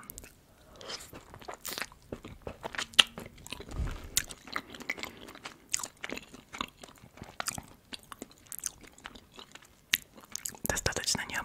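Close, crisp crunching and wet chewing of warm apple dumplings topped with ice cream and grated chocolate, with repeated irregular bites and soft mouth sounds over quiet background.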